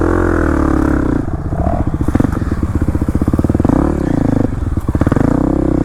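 A Kawasaki KLX300 dirt bike engine revs hard on a muddy trail, a loud, close, continuous throaty roar with pulsing throttle surges and a brief clatter partway through.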